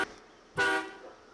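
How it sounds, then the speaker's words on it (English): A truck horn in the SnowRunner video game gives one short, loud blast lasting about a quarter second, cutting above a low engine and ambient background with no speech. "the horn just blew the wooden signs over"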